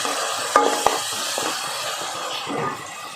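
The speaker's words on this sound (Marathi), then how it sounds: "व छान असं हे आता परतून घेणार आहे" Sabudana khichdi mixture with lemon juice sizzles and hisses in a pan as a spoon stirs it, with a steady close frying hiss broken by two brief sharp clicks of the utensil and no speech.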